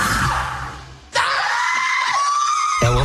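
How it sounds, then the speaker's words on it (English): A woman's loud, sustained scream cuts in over a booming score, held for over a second and a half before heavy music returns. "You can use a scream."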